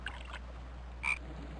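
A frog gives two short, close croaks a second apart over a quiet outdoor background.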